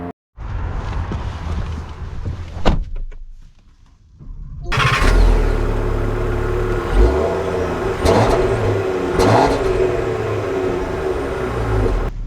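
A 2024 Range Rover Sport Dynamic SE with an inline-six engine gets under way, with a low engine drone, rumble and wind noise rising after a brief quieter pause, heard from inside fairly loud.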